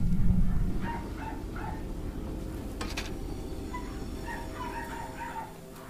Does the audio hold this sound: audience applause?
no